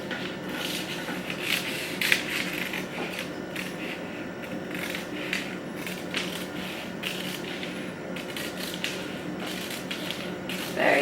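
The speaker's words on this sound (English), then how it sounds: "First thing you want to do is basically slash up one of your dart legs" Scissors cut slowly through a paper bodice pattern along a dart leg, giving close, quiet, repeated snips and rustles over a faint steady background.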